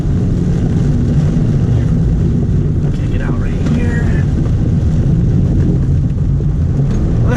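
Stock Subaru BRZ at full throttle on a track straight, a loud, steady engine roar with heavy wind buffeting that holds constant throughout without a break.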